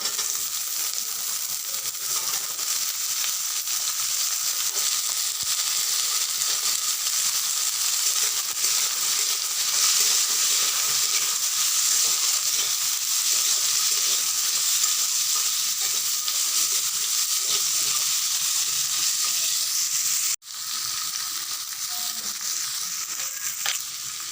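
Sweet pumpkin pieces fry in a hot pan with a loud, constant sizzle and spatter that keeps going, broken only by a brief dip near the end.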